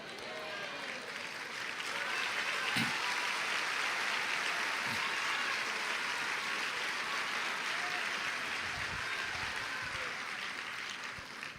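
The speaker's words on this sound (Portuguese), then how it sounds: "Você está aplaudindo" An audience in a church breaks into sustained applause, a steady wash of clapping that swells after a couple of seconds, holds evenly, then eases off near the end.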